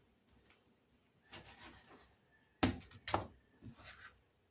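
Knife chopping an onion on a board in a home kitchen while making breakfast, a few soft cuts followed by two sharp, loud chops and some lighter taps, close and otherwise quiet.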